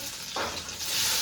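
Garlic dropped into hot oil with cumin and asafoetida, a dense, close crackling sizzle that swells briefly as it hits the pan and continues loudly to the end.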